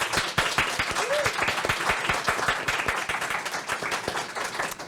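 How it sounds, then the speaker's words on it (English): Audience applause for the speakers at a careers advice event for first-generation university students, with dense and steady clapping from a room full of people throughout. "Could I have a round of applause for our speakers, please?"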